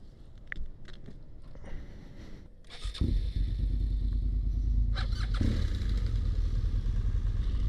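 A BMW R1200GS or Suzuki SV650 motorcycle riding from back roads onto a freeway: a low engine rumble and wind noise swell abruptly around three seconds, then hold a steady, loud drone to the end.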